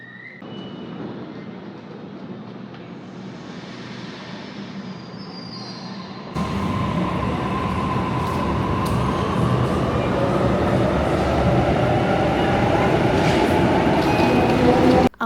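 Steady rumble of a moving train from inside the carriage, growing louder partway through, with faint wheel squeals on top.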